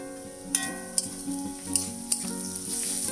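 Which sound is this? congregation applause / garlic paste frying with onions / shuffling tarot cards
garlic paste frying with onions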